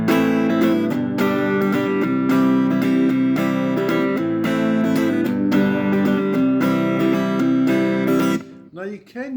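Steady acoustic guitar strumming of a song first written for ukulele, with full chords in a continuous rhythmic pattern, close and loud, ending in a few softer plucked notes.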